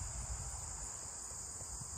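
Crickets chirp in a summer field by a barn, a continuous high, shrill trill that stays steady and fairly faint over low background rumble.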